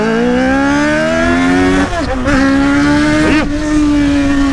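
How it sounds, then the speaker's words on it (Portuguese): Loud, close motorcycle engine roaring with a steady high harmonic drone, briefly dipping and revving twice before settling back into a sustained, deafening tone. "Olha o ronco dessa moto, meu irmão."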